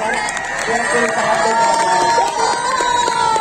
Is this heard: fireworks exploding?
no